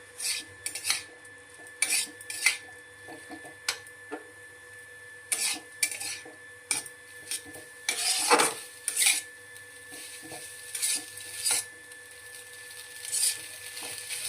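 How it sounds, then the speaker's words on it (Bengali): Food being stirred in a pan before going into a school tiffin box, a series of intermittent scraping strokes of a spatula against metal over a faint sizzle, no speech. "একটু নেড়ে চেড়ে তারপরে আমি টিফিন বক্সে ভরে নেব।"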